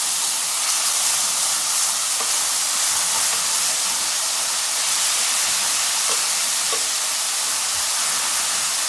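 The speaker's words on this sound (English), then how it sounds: "after frying up the seasoning a little to open up all the flavors" Continuous sizzling and hissing of garlic, onion, cilantro, green onion and pepper frying in hot oil, steady and close, with a few faint clinks.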